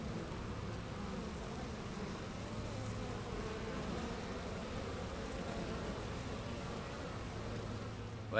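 Honey bees buzz around a beehive during hive splitting, a dense, steady drone of many insects, fairly faint and continuous, with no talk.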